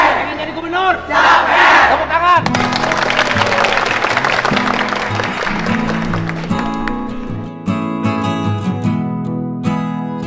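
An audience at a public gathering breaks into loud, sustained clapping mixed with excited cheering and shouts, close and dense at first, then settling into steady applause as music begins underneath.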